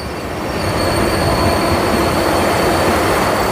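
A New Delhi–Howrah train runs down the line near Belur station, passing through a railway workshop area, a loud continuous rumble of wheels with a thin, sustained squeal over it.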